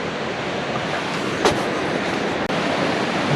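A mountain creek in the Smoky Mountains rushes in a steady, broad hiss of flowing water, loud and continuous, broken only by a brief bump and a short dropout.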